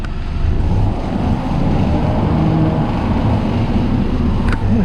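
A rough-running car engine, with a suspected timing chain or AC compressor fault, gives a steady, close, grumbling rumble with a faint rattly texture throughout.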